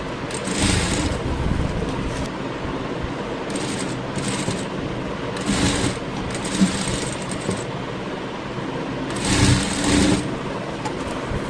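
A sewing machine stitches the shoulder seam of a boat-neck blouse in short bursts of rapid whirring, starting and stopping several times with brief pauses between runs, close and clear with no talking.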